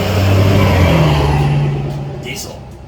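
A 1966 Chevy Nova wagon's 327 small-block V8, bought at auction, runs with its valve cover off in a loud, steady, rough rumble that slowly eases down in level, with brief clinks near the end.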